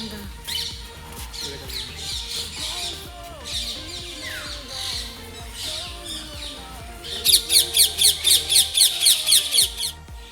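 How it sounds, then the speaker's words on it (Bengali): Lovebirds, cockatiels, budgerigars and cockatoos call at a mini zoo picnic spot in Uluberia: busy chattering and squawks throughout, building to a loud run of rapid, evenly spaced shrill squawks near the end. "আর এখানে বিভিন্ন ধরনের পাখি আছে, যেমন লাভবার্ড, ককটেল, বদ্রি, কাকাতুয়া।"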